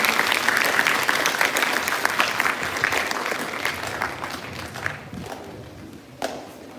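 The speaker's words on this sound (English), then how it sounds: "please give a big round of applause to our innovative students" Audience applause for students after a school science day play, many hands clapping steadily at first, then thinning and fading out, with a couple of louder thumps near the end.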